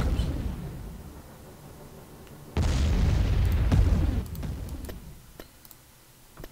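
Artillery shells bursting on bunkers in the strategy game Empire at War: a loud, sudden boom followed by a sustained rumbling blast lasting over a second, then scattered smaller pops and ticks fading away.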